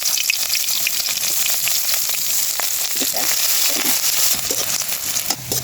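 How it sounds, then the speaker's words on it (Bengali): Chopped onion fries in oil in a wok, producing a steady close sizzle with scattered crackles and spatula stirring clicks throughout. "তেলের মধ্যে পেঁয়াজ কুচি দিয়ে দিলাম।"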